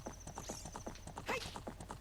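Horse hooves clip-clop in a fast, even gallop rhythm in The Legend of Zelda: Ocarina of Time (1998), with a brief whinny-like cry partway through and a thin game tone behind.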